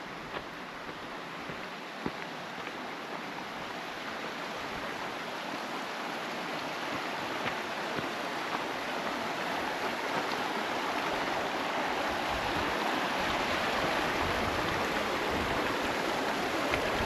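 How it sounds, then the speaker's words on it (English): Paradise Falls in the Bighorn Mountains pours as a steady rushing roar of water, moderately close, growing slightly louder throughout with no voices. "I think we might be at the waterfall."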